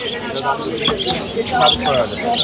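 Pigeons, including English classic blue pairs, cooing at a busy bird market in Mirpur, Dhaka, with soft coos and chirps from nearby birds mixed with people talking over them.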